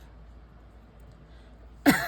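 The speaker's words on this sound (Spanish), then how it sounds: "Ahí está tosecita." A single short cough sounds near the end after near silence, close and fairly sharp, during a crochet session making an amigurumi toy.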